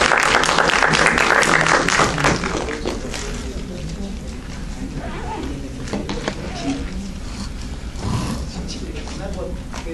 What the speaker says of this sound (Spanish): brindémosle un aplauso